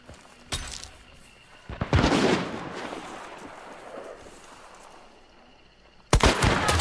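Gunfire in a shooter video game: a few sharp, loud shots with a brief burst near the start and another blast at the end, separated by a fading rumble and quieter ambience.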